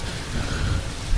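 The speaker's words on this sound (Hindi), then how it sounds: "बारिश की बूंदें तलवार की तरह चुभने लगी" Heavy rain in a storybook scene, a dense, steady roar of falling water that stays at an even loudness with no voices over it.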